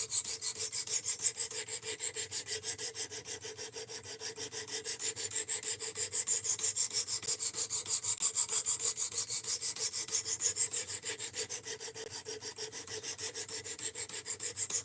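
Steady rasping strokes of a knife blade drawn across Work Sharp RMX sharpening stones, a continuous gritty scrape repeating at an even rhythm, close and fairly loud with no voices.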